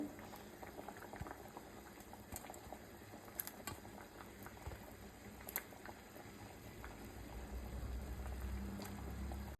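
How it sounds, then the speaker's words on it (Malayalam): Fish curry with a thick ground masala base boils steadily in a pot after the fish pieces go in, giving continuous close bubbling and popping throughout, growing slightly louder toward the end, with no talk. "നല്ലതുപോലെ അരപ്പെല്ലാം നന്നായിട്ട് തിളച്ചിട്ടുണ്ട്"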